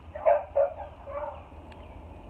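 Two or three dogs bark in the distance, muffled barks over a low steady background hum, then fading away.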